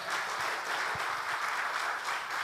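A church congregation claps enthusiastically during a Sunday worship service, a full, continuous wave of applause that stays even and fairly loud from start to finish.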